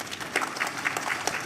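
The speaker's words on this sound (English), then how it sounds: "Can you all give him a big round of applause?" Applause from the audience at a National Handloom Day award ceremony in a Shillong auditorium, honouring a sericulture demonstrator; steady, fairly faint clapping fills the brief moment with no talk over it.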